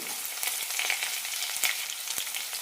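Sliced onion and curry leaves fry in hot oil in a pan with fenugreek and chillies for a dal sambar. A dense, steady sizzle crackles close by, with a few faint clicks from stirring.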